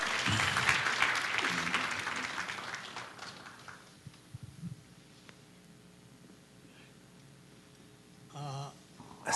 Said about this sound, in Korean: 다시 한번 큰 박수 한번 해주세요.